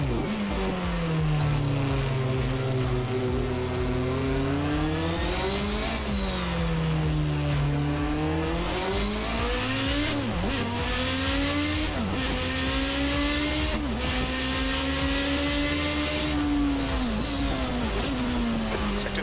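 A Toleman T184 Formula One car's engine in the Assetto Corsa racing game, revving continuously and loudly, its pitch climbing and dropping through repeated gear changes and corners over a long stretch, with no talk.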